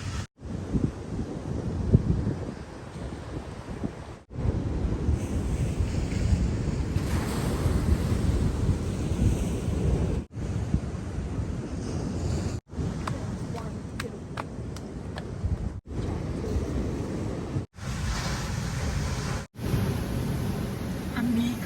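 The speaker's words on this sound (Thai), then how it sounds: "วันนี้คลื่นแรงมากเลยนะคะ" Strong ocean waves crash and roar continuously on the beach at Pranburi, Thailand, with heavy wind buffeting the microphone; the recording cuts between several takes.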